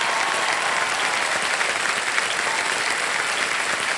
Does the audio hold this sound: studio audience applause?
yes